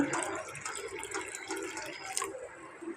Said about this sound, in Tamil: அடுத்ததான் நம்ம இந்த கப்பில் ஒன்று ஊற்றிக்கலாம்